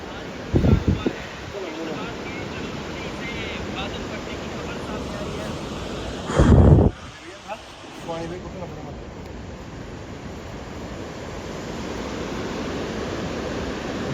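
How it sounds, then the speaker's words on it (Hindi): A fast, muddy river roars steadily after a cloudburst near Chashoti on the Machail Yatra route, a broad constant rush heard close by, with people talking over it and brief wind buffeting. "पानी की हालत देखो कितना तेज़ और कितना गंदा पानी हो गया"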